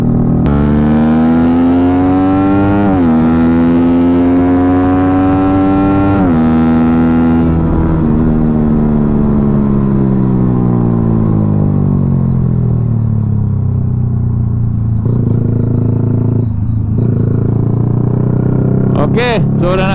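Yamaha Y15ZR motorcycle ridden on the way to a car wash, its close, loud engine climbing in pitch through repeated gear shifts before settling and slowing, with steady wind rush.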